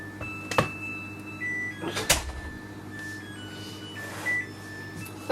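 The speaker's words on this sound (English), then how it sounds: "That noise is my dryer. It's just finished its cycle." A clothes dryer signals the end of its cycle with a few thin steady electronic tones, held and then shifting pitch, heard faintly indoors with a couple of bumps and clatters in between.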